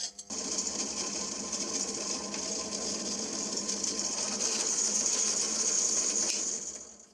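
A drill bores holes through stock for a DIY patch bay rack mount and monitor riser, stepping up through bit sizes; a steady, close, whirring drone runs for several seconds with faint workshop noise.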